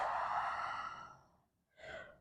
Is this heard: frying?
no